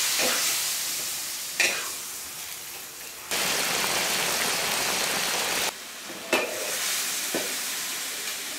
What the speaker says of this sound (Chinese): 先把它炒出油才行。